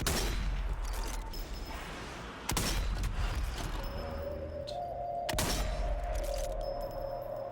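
Gunfire in a zombie shooter video game: sustained rattling fire with two sharp, loud blasts punching through, a tonal whine entering partway, fairly close and without talk.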